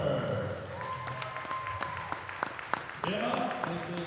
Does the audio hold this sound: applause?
yes